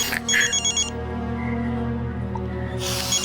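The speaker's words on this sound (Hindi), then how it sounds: "डैडी का फोन है, मैं जरा बात कर लेता हूँ।" A telephone bell rings in a crime drama scene, with a tonal ringing burst at the start, a sustained ringtone-like tone through the middle and another ring at the end, heard alone without talk.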